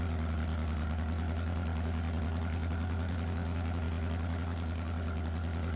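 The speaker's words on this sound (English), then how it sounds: "this tractor seems like have a nice sound to it, if you ask me. Nice roady rumble." Steady low engine rumble, continuous and even, of a heavy tractor idling close by in Farming Simulator 22, a deep droning hum.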